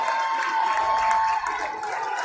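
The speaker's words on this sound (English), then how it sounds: "Titan fans on their feet, cheering on that defense" Home fans at a girls' varsity high school basketball game stand and cheer for their team's defense, a steady wall of crowd noise with yells and a whistle-like tone rising over it.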